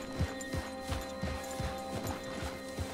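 Horse hooves clip-clopping in Red Dead Redemption 2 Online, a steady run of close, thudding hoofbeats over a constant background hum, with no talk.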